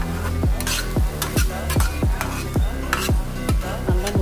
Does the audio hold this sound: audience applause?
no